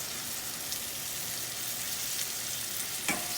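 Mahi-mahi fillets crisping in a frying pan give off a steady, even sizzle, with a brief sharper crackle near the end and no voices.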